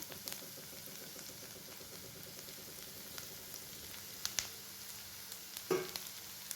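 Garlic and green chilies sauté with onions in a pan, a low steady sizzle with a few light scraping clicks from a stirring utensil, faint and close.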